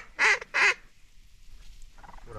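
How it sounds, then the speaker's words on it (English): Wigeon ducks calling over water during a duck hunt, two loud, close whistled calls in quick succession followed by quieter outdoor background. "What are these? Widgeon."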